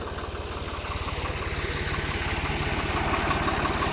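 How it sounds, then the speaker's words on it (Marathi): A tractor engine idles on a sugarcane farm beside a canal while a ploughing implement is hitched on. It gives a steady, close, low rumble with an even pulsing beat throughout, and no voices are heard. "हे तिरी जोडत आहे ट्रॅक्टर"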